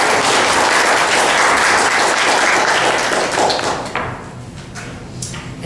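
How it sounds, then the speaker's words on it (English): Applause at a village board meeting breaks out as a dense, loud wash of clapping from the room, then thins into scattered claps as it tapers off. "Round of applause."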